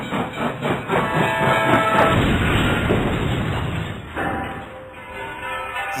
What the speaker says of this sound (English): Oh, the train wreck audio?